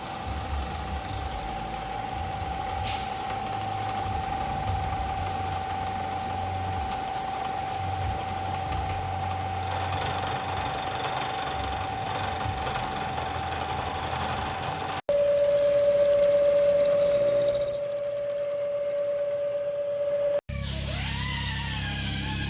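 A Bridgeport milling machine cuts a spacer for a 1960 Cadillac Eldorado master cylinder, holding a steady high-pitched whine over a low motor hum, with abrupt shifts as the cut changes, no talking.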